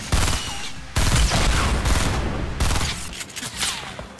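Video game gunfire from a sniper, loud close bursts of rapid shots with short gaps, dense and continuous over a few seconds, no voices.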